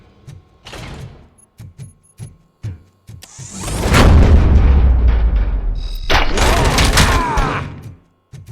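A few sharp bangs, then a long, loud burst of heavy rumbling gunfire and explosions in the video game RoboCop: Rogue City, pausing briefly before another intense barrage.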